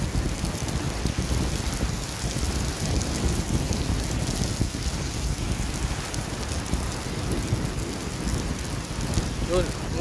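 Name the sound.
heavy rain and thunder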